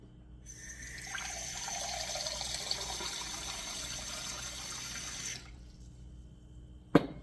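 Brine pouring onto packed sauerkraut cabbage, a close splashing trickle of liquid lasting several seconds before stopping, followed by a single sharp knock.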